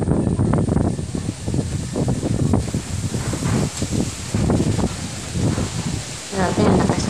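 Strong typhoon wind during Typhoon Rolly thrashes trees, a steady loud rushing roar with rustling leaves and gusty surges and buffeting against the microphone throughout, with no rain.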